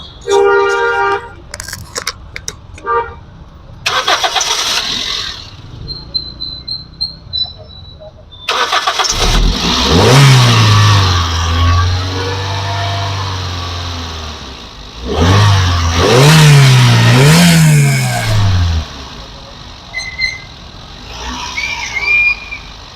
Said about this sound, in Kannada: ಇಂಜಿನ್ ಸ್ಟಾರ್ಟ್ ಮಾಡಿನೂ ಕೂಡ ತೋರಿಸ್ತೀನಿ ನಿಮಗೆ, ಏನು ಸೌಂಡ್ ಬರ್ತಾ ಇದೆ ಇಂಜಿನ್ದು ಅಂತ ಅದನ್ನು ಕೇಳೋಣ